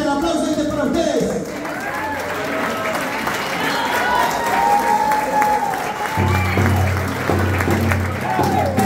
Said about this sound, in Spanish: el aplauso este es para ustedes